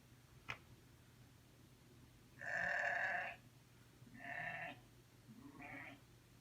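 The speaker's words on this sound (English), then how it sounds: "what sound does a sheep make?" Three bleats of a sheep, likely played by a smart speaker in a church setting, sound as separate calls, the first longest and loudest, then two shorter ones fading, after a single soft click in a quiet room.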